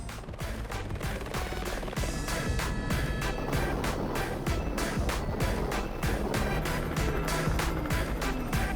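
An Airbus H125 helicopter flying at high altitude gives a loud, constant engine roar with a steady, rapid thumping rhythm running through it, close and unbroken.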